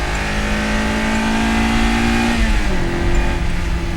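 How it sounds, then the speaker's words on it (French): A Toyota AE86 Trueno engine revs hard under acceleration through the gears, a loud, continuous in-car drone climbing in pitch. A brief dip marks a gear change, then the engine pulls on again. "La seconde monte facilement à 90 et en poussant la 3,"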